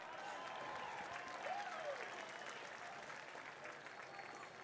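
Baseball crowd applauding during a big series game, a steady broad wash of clapping and cheering that swells briefly near the middle, with faint commentary voices underneath.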